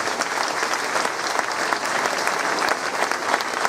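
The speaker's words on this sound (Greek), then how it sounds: "Ένα χειροκρότημα για όλους τους δημοσίους." An indoor audience at a Greek cultural event in Athens breaks into steady, dense applause, sustained clapping that fills the room throughout.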